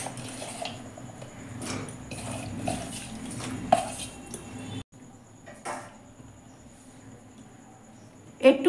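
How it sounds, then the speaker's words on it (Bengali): Pieces of ash gourd dropped into a metal wok in a home kitchen, a run of soft clinks and scrapes of utensils against the pan, close by, ending with a louder clatter. "এভাবে কড়াইতে চাল কুমড়াগুলো দিচ্ছি"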